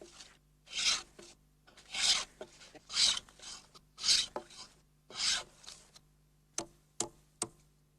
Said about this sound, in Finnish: Pienet epätasaisuudet poistetaan viimeistelyssä härkähöylällä.